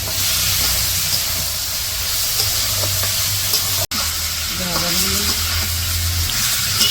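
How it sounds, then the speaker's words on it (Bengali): Pointed gourd and soft fish sauté together in hot oil in a pan, giving a steady, close, dense sizzle that runs the whole time, with a low hum beneath and a faint voice briefly audible. "এই যে সবজি কষাইতেছে সাথে মাছ মিশিয়ে দিছে"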